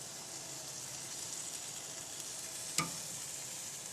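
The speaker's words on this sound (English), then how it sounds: "This one is actually starting to sizzle a bit" Faint, steady sizzling of food frying in a pan, a soft hiss throughout with one brief clink near the end.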